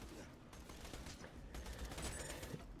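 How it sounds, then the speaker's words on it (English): A Jakobs grenade gun fires corrosive grenades in Borderlands 2, a dense run of rapid shots and blasts layered with busy game effects, loud and continuous. "it fires as fast as you can pull the trigger, and the grenades do really nice corrosive damage"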